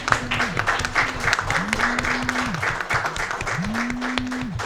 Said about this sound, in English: we want to give Gulf Insurance a round of applause and a big thank you